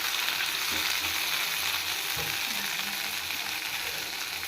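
Masala sizzles and fries in a pan with mint leaves added, a steady close hiss that is broken by faint scraping stir sounds.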